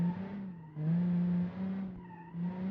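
A grippy car in a racing video game, its engine droning at a steady pitch that dips and rises as it shifts or corners, with tire scrub beneath, moderately loud and continuous.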